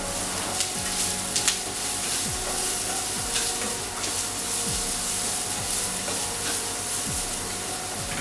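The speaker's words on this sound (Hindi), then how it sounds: "ये मोटा कटा हुआ प्याज है, 1 बड़ा प्याज। ये हमें पकाना है" Thickly chopped onion sizzles and crackles steadily in a hot pan, a dense continuous frying hiss with the occasional stir, close and fairly loud with no talking.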